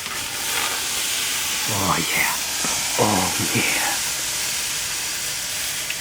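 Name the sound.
steam hissing from homemade salt water welding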